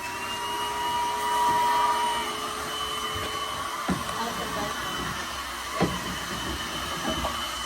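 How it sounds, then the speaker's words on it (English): Vacuum droning steadily at max power while collecting yellowjacket wasps from a nest in a barn wall, a constant whirring hum with a few soft knocks and bumps. "we're going to fire up the vac and just start collecting"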